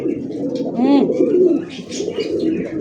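A male Mili Golla pigeon coos close by in a few rolling, throaty phrases, while people talk quietly in the background.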